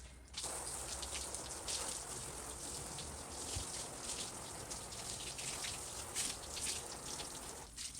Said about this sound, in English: then we'll hit it with our hose again